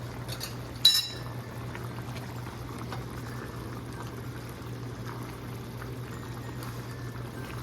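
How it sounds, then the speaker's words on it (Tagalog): Chicken mechado simmering in a pot after salt is stirred in, a soft steady bubbling hiss with one brief clink of a utensil near the start, quiet and without talk. "Papakuluan ko na lang siya ng mga 1 minute para matunaw lang yung asin na nilagay natin."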